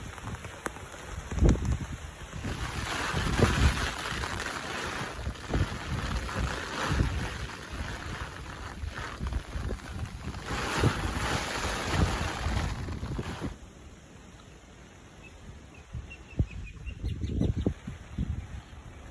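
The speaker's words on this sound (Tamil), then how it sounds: "பார்த்தீங்களா எந்த அளவுக்கு காற்று அடிச்சிக்கிட்டு இருக்குன்னா நம்ம வந்து நடக்கவே முடியல" Strong gusting wind from Cyclone Fengal in Cuddalore, Tamil Nadu, roars loudly into an outdoor microphone in surging, buffeting waves, easing somewhat toward the end.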